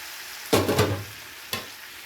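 Fried potatoes and pointed gourd are dropped into a pan of spice masala, giving two distinct thuds with a short hiss in between, against a quiet low sizzle.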